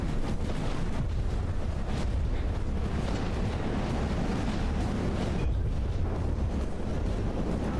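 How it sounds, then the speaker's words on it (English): Torpedoes strike a ship in the naval combat game From the Depths, producing a dense, continuous roar of rumbling explosions without a break. "Looks like the torpedoes are actually getting through a bit now."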